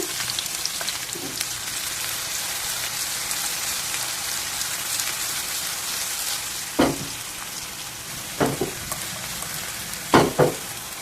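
Chopped green chillies, onions, grated carrot and urad dal fry in a pan with a steady hissing sizzle, broken near the end by a few distinct scraping stirs.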